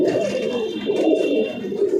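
Tournament racing pigeons cooing close by, soft repeated throaty coos running continuously, with a faint steady tone in the background.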